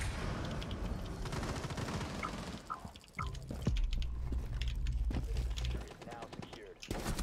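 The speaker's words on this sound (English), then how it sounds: "I shoot him many fucking times" Gunfire in the video game Rainbow Six Siege, with rapid automatic bursts and single cracks over a low rumble, loud and close, broken by a brief pause midway.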